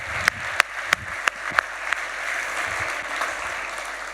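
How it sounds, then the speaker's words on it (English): Audience applause greets Paolo Ardoino as he takes the stage at Lugano's Plan B Forum 2024, opening with several sharp, distinct claps before settling into a steady, even wash of clapping from a crowd. "Please welcome to the stage the biggest round of applause to Paolo Ardoino."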